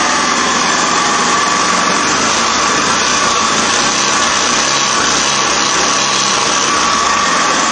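A wood-gas engine fed by a Phoenix gasifier with a new nozzle design runs loud and close, holding a steady, dense roar with a high whine throughout and no pauses.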